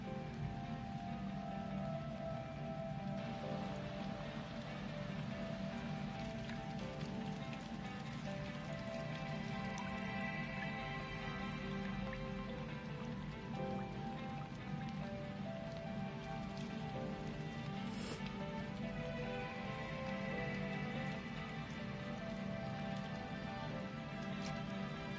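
Rain falls steadily in an episode of the anime Wind Breaker, a dense, continuous patter on surfaces that stays even throughout, moderately loud and without pause.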